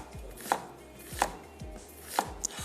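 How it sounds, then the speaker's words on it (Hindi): A knife slicing onion on a cutting board while preparing a creamy kheer recipe: a few evenly spaced, crisp chops with a dull board knock under each, no voices. "और प्याज को हमने स्लाइस कर लेना है।"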